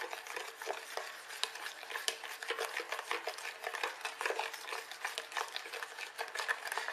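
Fish in sauce is stirred in a bowl with a utensil, giving a steady run of close wet scraping and sloshing strokes with no voices.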